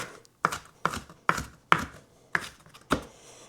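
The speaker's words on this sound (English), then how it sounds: "if you have some that are maybe a little bit too big, just chop them up" Knife chopping food on a board while preparing nacho dip: six separate crisp chops spaced roughly half a second apart, close and fairly loud, with quiet gaps between them and no talking.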